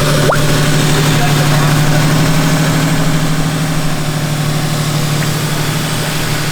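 A Lexus IS300 engine runs at a steady idle after a restart, with a constant low hum and drone close by, and a voice talking over it.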